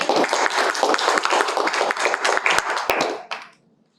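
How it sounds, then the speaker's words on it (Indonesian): Classroom applause: a group of students clapping steadily and briskly up close for about three seconds before it quickly dies away into silence. "tepuk tangan untuk Najih."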